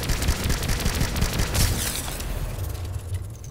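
Battle rifle hip fire in the Planetside 2 video game, a loud, rapid stream of close gunshots with booming reports, tapering off near the end, with no speech over it.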